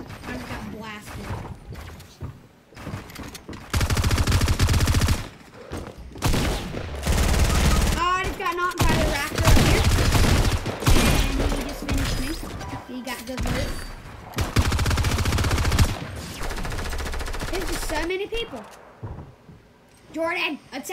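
Bursts of rapid gunfire from a Fortnite match crackle loudly in repeated volleys, broken by short pauses, with several players talking over the shooting.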